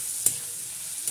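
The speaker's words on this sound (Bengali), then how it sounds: "আমার সবজিটা ভাজা হলো।" Vegetables frying in a pan for a vegetable Maggi masala dish, giving a steady soft sizzle with one brief stirring scrape near the start and another at the end.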